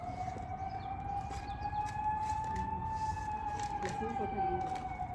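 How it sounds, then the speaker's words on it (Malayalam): An ambulance siren wails steadily in the distance, a rising and falling tone sustained throughout, with faint background noise and occasional birds. "ഓ എൻ്റെ മാതാവേ ആംബുലൻസ് പോകുന്നല്ലോ"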